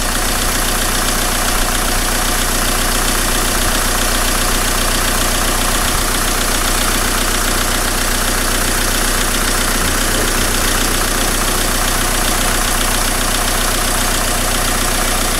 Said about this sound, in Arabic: نلاحظ الموتور كيف بدا يرتاح اكثر.